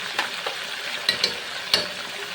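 Chicken with spices stirred in a frying pan, a soft continuous sizzle broken by a few sharp spoon scrapes and taps against the pan, close and moderately loud, no talking.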